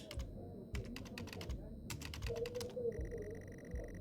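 Rapid keyboard typing in bursts of crisp clicks from the video game Stories Untold, close and clear over a low rumbling game ambience, followed by a steady electronic tone.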